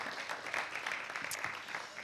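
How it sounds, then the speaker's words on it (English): Quiet, distant applause from an online startup pitch event, a brief continuous patter of clapping with no voice over it. "So a round of applause for UPTEC and Porto Municipality."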